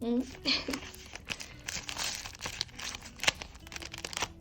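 Christmas paper surprise bags being handled, crinkling and rustling close up in short bursts, with paper tearing and occasional taps.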